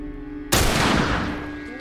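A single loud gunshot fired in The Last of Us, a sudden close blast that hits after a quiet lead-in and then rings out in a long, slowly fading tail.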